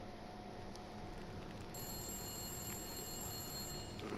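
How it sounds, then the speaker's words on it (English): A telephone rings in the video game Wintermute, a steady electronic tone running through most of the stretch over a constant background hum, with no talking. "Ooh, it's the bat phone."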